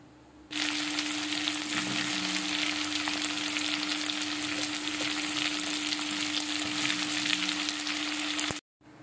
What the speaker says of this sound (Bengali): আলু আর কুমড়োগুলোকে ভালো করে একটু ভাজা ভাজা করে নিয়ে